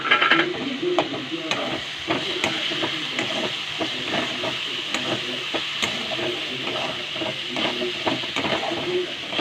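Mint-coriander paste stirred over high heat into onions and tomatoes frying in oil, heard as a loud, continuous sizzle and hiss with repeated spoon scrapes and taps against the pan, close up and free of talk.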